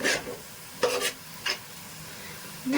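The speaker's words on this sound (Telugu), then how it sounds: "చూడండి, వాడిపోతున్నాయంటే మనకి వేగుతున్నట్టు. అంత చుట్టూ ఉండేది కూడా ఇలా కలిపేసుకోండి." Onions frying in a pan for mutton biryani are stirred with a utensil, giving three or four quick scraping strokes over a faint, steady sizzle, close and fairly quiet.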